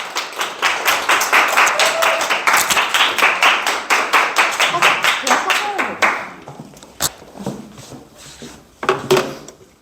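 Audience applause welcoming a speaker to the stage at a business seminar, rapid rhythmic clapping from a crowd that thins out after several seconds into scattered claps, with faint voices underneath.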